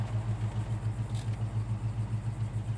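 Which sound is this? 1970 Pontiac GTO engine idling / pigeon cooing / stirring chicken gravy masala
1970 Pontiac GTO engine idling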